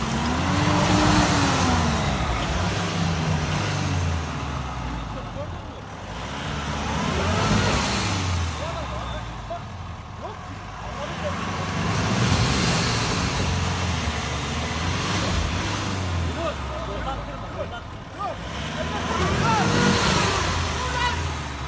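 A Mitsubishi L200 4x4 pickup stuck in mud revs its engine repeatedly, rising and falling in long surges over about twenty seconds, with people's voices shouting over it.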